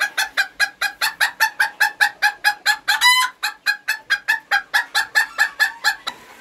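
Chickens cluck in a fast, steady series of sharp calls, close by, with a brief crow partway through from a rooster with a broken leg.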